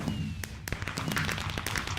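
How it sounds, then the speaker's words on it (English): Fireworks set off in a Minecraft FTB modpack game: a rapid series of sharp pops and crackling bursts, loud and close, tumbling over each other for two seconds. "we'll set off our fireworks again so you can see them."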